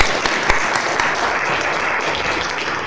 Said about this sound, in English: please give a round of applause as we welcome to the stage Thomas Ma